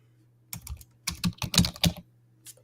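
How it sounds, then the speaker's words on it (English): Clacky computer keyboard being typed on, bursts of fast, close keystrokes in irregular clusters with short pauses, loud and dry with no voices. "You sound like you're typing on an old Selectric. Yeah, it's a clacky keyboard."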